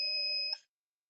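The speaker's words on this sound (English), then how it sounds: "Alert is beeping." A driver alert system on a hackathon vehicle prototype gives one steady electronic beep, a bright clear tone held for about half a second and then cut off, with nothing else around it.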